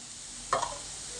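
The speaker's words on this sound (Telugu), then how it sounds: "చాట్ మసాలా పావుబాజీ మసాలా ఇవన్నీ వేసి చక్కగా వేయించుకోవాలి" Ground spices such as chilli, turmeric, coriander and cumin powder fry in a pan for pav bhaji. A single quick scrape of a stirring spoon is followed by a soft hiss of sizzling under a faint steady background.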